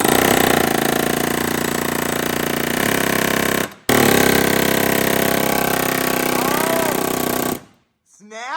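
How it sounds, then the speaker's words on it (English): A Snap-on air hammer pounds away at a bushing in loud, rapid continuous hammering that breaks briefly near the middle, then cuts off near the end. "So Alfonso brought this snap-on hammer."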